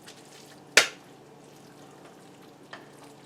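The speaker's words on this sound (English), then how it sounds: "So that's why you want to stir as you go." Pork being stirred for BBQ pulled pork, one sharp clattering scrape followed by a quiet, low sizzle and a faint second tap.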